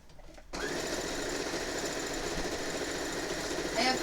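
After a brief quiet start, a sewing machine kicks in and hums continuously at high speed while stitching binding around the edge of a lap quilt. The whir is loud, close and steady, with a faint scrape near the end.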